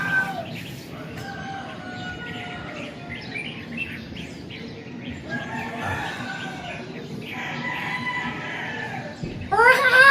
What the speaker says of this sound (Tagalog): with matching tiktilahok ng manok